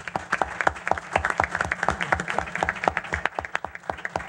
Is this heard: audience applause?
yes